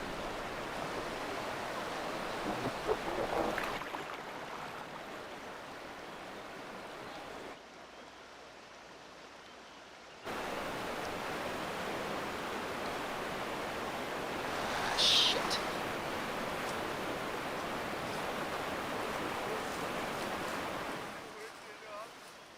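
River water splashes and rushes through rapids, a steady broadband wash that dips briefly in the middle and includes a bright splash burst midway.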